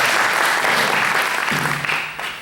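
Audience applause at a Holi celebration event in Houston, a dense steady wash of clapping that carries through, with a low tone entering midway and the clapping thinning slightly toward the end.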